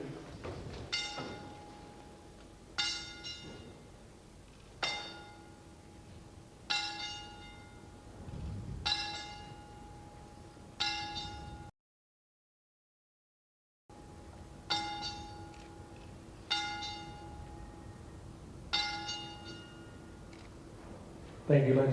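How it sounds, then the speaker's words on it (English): A boxing ring bell is gonged ten times in tribute at a professional boxing event, evenly spaced ringing strikes with a brief gap midway, over a quiet arena murmur. "We gong the bell 10 times."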